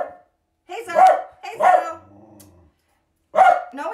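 A dog barks several times in sharp bursts, close and loud, with short pauses between, and a low growl in one gap.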